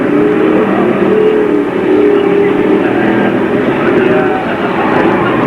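Race cars, including the 75 and the 22, battle for position early in a race on an oval track, a steady loud roar of engines and crowd noise filling the whole stretch without spoken commentary.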